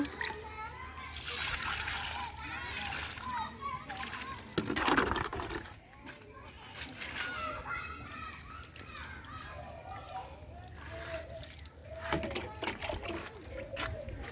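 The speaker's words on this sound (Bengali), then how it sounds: "আমি এখন আমার গাছগুলোতে পানি দিতেছি" Water splashing and trickling onto garden plants, including rose bushes, comes in uneven bursts nearby, while an adult and someone talk over much of it.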